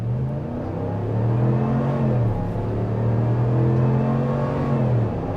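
A 2024 Ram 1500 pickup in four-wheel drive auto pulls hard off the line, its engine roaring close and loud and climbing steadily in pitch for several seconds, with no talking.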